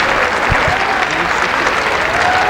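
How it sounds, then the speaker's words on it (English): A crowd applauds steadily and loudly at the women's collegiate wrestling championship finals as the University of Iowa is named team champion. Dense clapping fills the whole moment, with an announcer talking over it. "the crowd is going wild."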